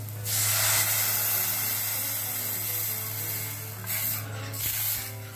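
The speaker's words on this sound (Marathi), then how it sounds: "तर ह्याच्यात आपण साधारण 4 कप पाणी घालतो." Water, about four cups, is poured into a pot of vegetable soup with sautéed garlic and onion, a steady splashing hiss that swells and fades over several seconds.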